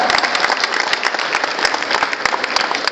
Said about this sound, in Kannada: ಇನ್ನೊಮ್ಮೆ ಜೋರಾದ ಚಪ್ಪಾಳೆ.